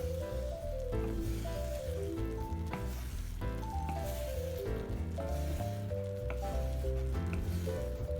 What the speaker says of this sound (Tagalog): Pero lutuin pa natin ng maigi itong gata